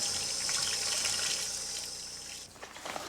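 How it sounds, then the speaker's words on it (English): Cool, clear tap water runs steadily over vegetables being washed in a kitchen, a soft continuous trickle and splash that stays close and fairly quiet, with faint clatter near the end and no voices. "The veggies need to be washed too, in cool, clear water."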